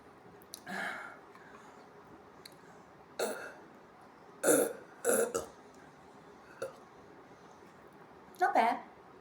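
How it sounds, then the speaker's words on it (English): A person burps repeatedly: several short, loud, close belches spaced out over a quiet background, some in quick pairs. "Let's see how this move makes me burp."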